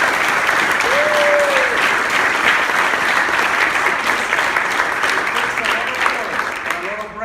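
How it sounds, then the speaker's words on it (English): Sustained, even audience applause for a trumpeter who has just played the national anthem at a Boy Scout Eagle Court of Honor, steady throughout and thinning slightly at the end, with a brief whistle-like tone early on. "So I want you to give a round of applause to this guy."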